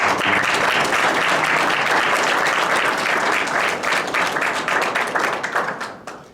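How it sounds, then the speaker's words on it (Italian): Audience applause at a poetry gathering, a dense sustained wash of many hands clapping that holds steady for several seconds, then thins and tapers away at the end. "Aiutatemi a fare un applauso così."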